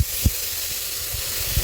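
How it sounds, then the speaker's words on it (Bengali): Chopped bathua greens tipped into hot oil in a wok, giving a loud, steady close-up sizzling hiss with a couple of soft thumps as the leaves land. "কড়াইতে দিয়ে দিয়েছি তেল, তেল গরম হয়ে গেছে। এবার দিয়ে দেবো শাকটা"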